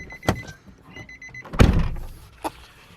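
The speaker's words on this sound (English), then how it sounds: "This door has to shut up." A Nissan 350z car door shuts with a solid thunk, preceded by a couple of smaller clicks and followed by a lighter knock, close and loud.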